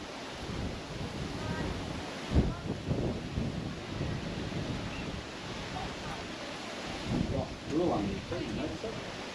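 Gusty wind buffets the microphone outdoors in the Red Centre of Australia's Northern Territory, a low rumbling roar that surges in bursts, with muffled voices briefly underneath.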